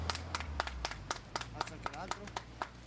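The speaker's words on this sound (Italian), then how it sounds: "Bel applauso, Ale." A few people clap at a bungee attraction, giving quiet, crisp claps in a steady, even rhythm, with voices nearby.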